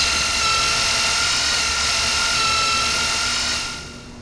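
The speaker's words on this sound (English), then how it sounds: "the drill is on, so you should be able to use that for noise" A drill runs in Splinter Cell Chaos Theory's bathhouse mission, a loud, continuous mechanical whine with a steady tone that fades out at the end, no speech.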